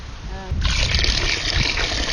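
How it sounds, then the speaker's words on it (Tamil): Water pours into raw mutton for mixing in an outdoor village kitchen, a steady broadband splashing rush starting abruptly and continuing loud and close, with a low rumble underneath. "கறி கலந்ததுக்கு தண்ணி."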